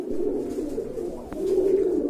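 Kagzi pigeons at a pigeon farm give low, rolling coos that swell and repeat close by, with one sharp click partway through and no voices.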